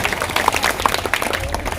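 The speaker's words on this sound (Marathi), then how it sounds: "ताईंसाठी एकदा जोरदार करावं टाळ्या" An audience at a primary school function claps in a short, dense burst of applause that stays fairly loud and even throughout.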